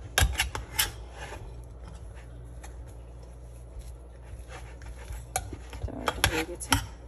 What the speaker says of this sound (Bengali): পটেটো সিদ্ধ করা হয়ে গিয়েছে, এখন একটু ম্যাশ করে নিই ম্যাশার দিয়ে।